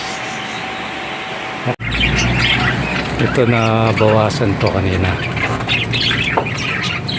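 Pet parakeets squawk and chirp close by, loud and repeated, while a person talks over them.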